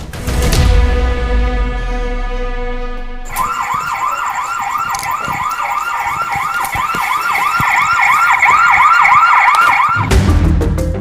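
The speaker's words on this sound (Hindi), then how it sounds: "ये सीसीटीवी कैमरे की आवाज थी।" CCTV camera alarm in a deserted old haveli, a loud electronic wailing tone warbling up and down steadily for several seconds after a sustained droning chord, then cutting off.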